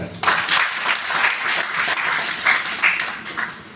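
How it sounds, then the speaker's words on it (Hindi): Audience clapping at a Ram Katha discourse on the Manas, a steady, dense round of applause that starts abruptly and continues at an even level throughout, with no talking over it. "ताली बाज गई मतलब ठीक है नहीं तो एक बार और जोर से"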